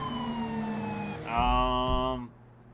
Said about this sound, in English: let me put my lights on, or my sirens